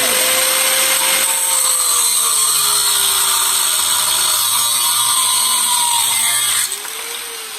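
A power tool, likely an angle grinder or cutoff tool, cuts the head off a bolt with a loud, steady, high-pitched grinding whine for several seconds before winding down, close and alone.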